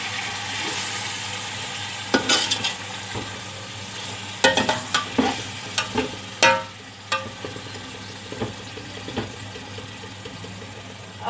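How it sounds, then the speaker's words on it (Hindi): Chicken is mixed in a cooking pot, a low sizzle broken by irregular scrapes and clanks of a spoon against the metal, close and uneven. "चिकन को अच्छी तरह से मिक्स कर लेंगे।"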